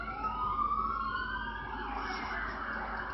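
A wailing siren sweeps up and down over steady traffic rumble, fairly loud and close, with no voices.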